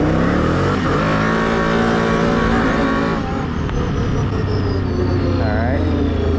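A Can-Am off-road vehicle revs hard and accelerates nearby, its engine note climbing loud and rough, then the pitch drops and rises again as it pulls away, with a rider talking over the noise.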